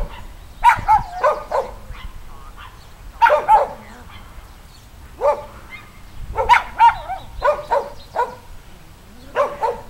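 A small Chihuahua barks in sharp, close bursts of yips and yaps while facing off against a prairie dog outdoors, the barks coming in quick clusters with brief pauses.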